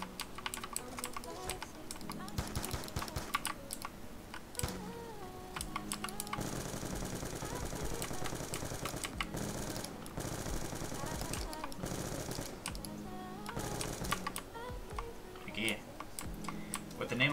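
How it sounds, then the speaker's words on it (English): A computer keyboard clatters with fast, continuous typing during a live stream of Black Ops 2 Zombies, dense rapid keystrokes mixed with game gunfire and a voice talking. "Turn your keyboard down."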